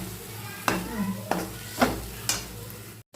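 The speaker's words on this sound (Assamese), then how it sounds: "অকণমান সময় ভাজি লৈছিলোঁ মই," Potatoes with turmeric, salt and ginger-garlic paste fry in a pan over low heat; a steady sizzle runs underneath while a spoon stirs and scrapes in four evenly spaced strokes, with no talking.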